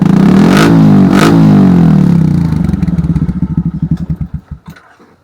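Suzuki Smash 115 motorcycle fitted with an Apido exhaust pipe, revved hard twice in loud close bursts, then dropping to a lumpy idle whose pulses slow and fade as the engine shuts off.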